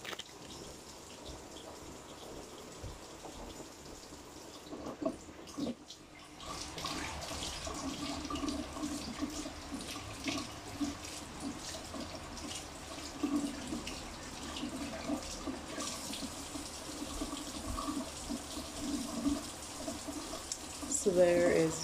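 Tap water runs into a sink while fresh vegetables are rinsed, a steady splashing stream with shifting gurgles as items pass under it; a voice talks briefly over the water.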